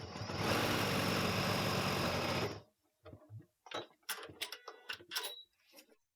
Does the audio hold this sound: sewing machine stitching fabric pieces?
yes